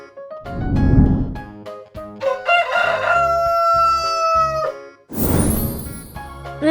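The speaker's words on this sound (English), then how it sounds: "Rooster." A rooster gives a loud, close cock-a-doodle-doo crow with a rising then drawn-out ending, framed by a single spoken word on either side.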